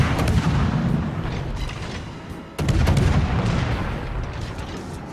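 Naval gunfire from the ship Valkyrie in the World of Warships game, heavy booming salvos with a dense rumbling roar, one big blast around the middle, loud and close with no voices.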